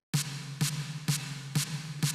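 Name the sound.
Function Loops snare sample number 10 played with short MIDI notes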